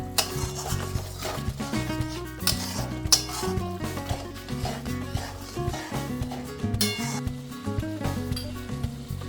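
Chui jhal chicken is stir-fried in ghee with a little sugar and spices, giving a close sizzle with repeated scraping and clinking of a spoon against the pot.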